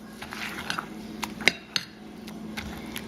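A spoon folds cinnamon graham cracker crumbs into an ice cream mixture in a bowl, giving soft scraping with a few light clinks against the dish, faint and close.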